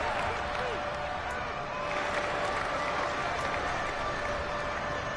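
A Madden 22 stadium crowd roars in a steady, dense wash of cheering and applause ahead of a big third down, filling the scene without pause.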